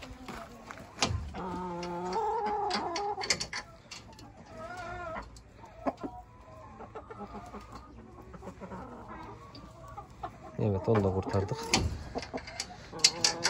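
Chickens cluck and squawk inside a tent coop, with agitated calls rising and falling throughout while a person talks intermittently nearby.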